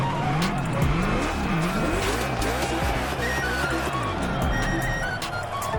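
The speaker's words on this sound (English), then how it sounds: "Drag racing time. Don't overthink, just burn and fly." A muscle car drag race with a tire-squealing burnout in the video game The Crew Motorfest: loud, continuous engine roar with rising and falling revs, screeching tires throughout, steady and close.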